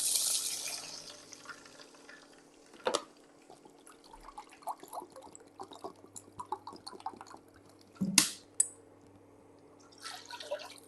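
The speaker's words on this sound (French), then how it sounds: "on va venir rajouter 1 litre d'eau" Water is poured in splashes into a pot of lightly browned ingredients for an Asian broth, with dripping, liquid trickles and a few sharp splashes against a quiet kitchen background.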